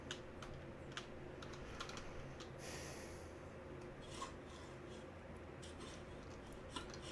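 Soft, quick taps on a computer keyboard, faint and close, with a steady background hiss and a few louder keystrokes.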